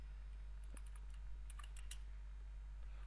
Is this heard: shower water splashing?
no